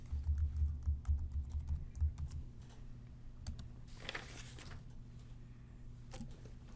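Rapid typing on a computer keyboard as login details are entered, a dense run of close, crisp key clicks at first that thins to scattered taps, alone with no voices.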